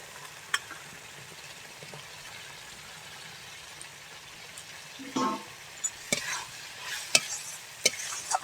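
Fried eggs go into a curry pan with a little water, giving a quiet sizzle at first and then a run of irregular scrapes, clinks and stirring knocks toward the end.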